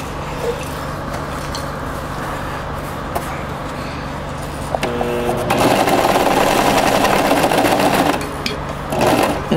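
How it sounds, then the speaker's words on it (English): A sewing machine stitches through a bean-filled weighted blanket, first a low steady hum, then a louder rapid mechanical whir for several seconds, with brief pauses and no talk. "I'm going to continue sewing."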